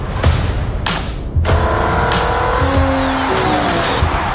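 Race cars at the 24 Hours of Le Mans, engines roaring loud and close with rising and falling whines as they pass, tires squealing and sharp gear-shift bursts punctuating the sustained noise.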